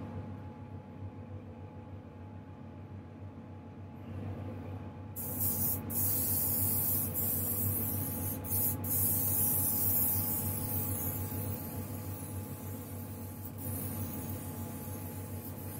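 An Iwata TH airbrush fed by a new air compressor gives a steady hiss of spraying air over a low compressor hum, the hiss switching on sharply partway through and briefly dipping a few times.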